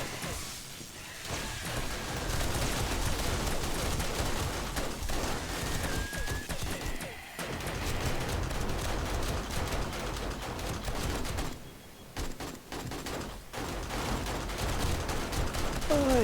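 Automatic turrets fire steadily at zombies during a Blood Moon horde night in 7 Days to Die, a dense, continuous rattle of rapid shots with brief lulls, loud and close throughout.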